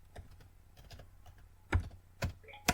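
Keys clacking on a computer keyboard in short irregular bursts, quiet at first and then a few sharper, louder keystrokes near the end, with no voices.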